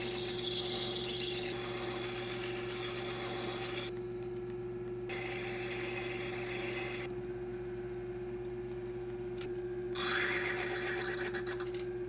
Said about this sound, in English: I'm starting here with a 360 grit just to get the rough